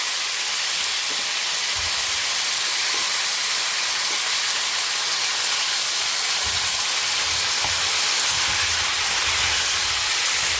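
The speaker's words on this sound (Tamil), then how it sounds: "இந்த எண்ணெயிலே இது நல்லா கொஞ்சம் நேரம் வதங்கட்டும்." Small brinjal cooks in hot oil for a hotel-style kara kuzhambu, giving a loud, continuous broadband hiss and sizzle that stays even throughout, with no talking.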